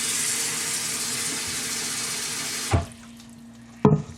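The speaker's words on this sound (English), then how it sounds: "I'm going to soak these into just hot water, and it's just tap water." Hot tap water runs from a kitchen faucet over Brussels sprouts as a steady, close rushing stream, then stops, followed by a couple of sharp knocks from handling the bowl or tap.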